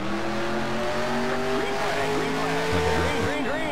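A race car spins out in NASCAR Racing 2003, its tires squealing in rising and falling swoops over a constant loud engine drone, with other cars roaring close by.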